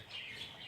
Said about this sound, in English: Sorry, that my birds are chirping.